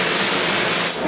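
BioGuard sanitizer sprays onto surfaces in a restroom, a loud, close, continuous hiss lasting about a second before tapering off.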